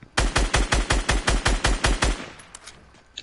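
Gunfire in Fortnite: a rapid, evenly spaced automatic burst of about a dozen loud shots that stops abruptly, followed by a few faint distant pops.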